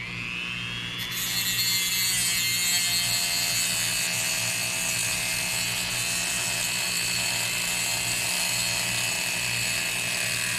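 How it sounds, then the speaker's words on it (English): A Dremel rotary tool cuts into a metal bolo tie tip, a loud, steady high-pitched whine that spins up in the first second and then holds at full speed to the end. "Dremel's starting to take a mind of its own"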